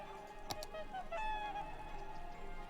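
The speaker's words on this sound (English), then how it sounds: "We can hear the birds in the bird zoo over there" Geese and other fowl in a bird zoo in the video game Cities: Skylines honk and call at a moderate distance. Several sharp honks and short calls come over a soft, steady ambient background.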